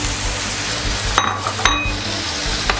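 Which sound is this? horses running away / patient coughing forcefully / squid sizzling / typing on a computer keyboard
squid sizzling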